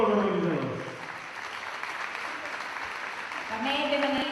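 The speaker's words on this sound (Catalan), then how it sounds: "Un fort aplaudiment per a tots els organitzadors." Audience applause for the organizers at a sports awards gala: a broad wash of clapping fills the middle of the clip, with a voice speaking before it and again as it fades.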